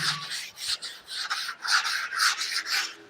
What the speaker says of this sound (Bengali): এরকম আপনি একশো বিশ নম্বর সিরিজ দিয়ে আমরা ঘষে নিচ্ছি